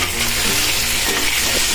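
Ingredients dropped into hot oil already seasoned with cumin, asafoetida and sesame seeds, sizzling loudly and steadily in a pan for a Gujarati snack, close up with no voices.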